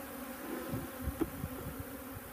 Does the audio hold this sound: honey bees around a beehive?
yes